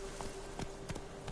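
Horse hooves galloping in The Witcher game, a few soft rhythmic thuds spaced under a steady background hum, fairly faint.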